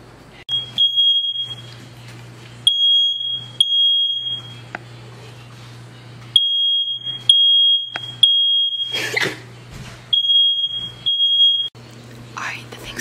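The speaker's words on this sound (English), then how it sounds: "Is that even a smoke alarm?" A smoke alarm gives repeated shrill beeps in stretches while people talk quietly nearby, with a low hum underneath.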